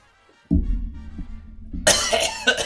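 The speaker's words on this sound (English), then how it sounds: "You'll hear me coughing throughout this thing." A person with a cold gives one sudden loud cough followed by a harsher, raspier coughing burst, close up with no talk.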